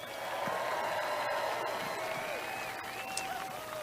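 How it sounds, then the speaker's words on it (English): A large outdoor crowd at a Trump campaign rally in Muskegon, Michigan applauds Ted Nugent, a faint, distant wash of clapping and crowd noise with a few scattered cheers and whistles mixed in. "Let's give him a great round of applause."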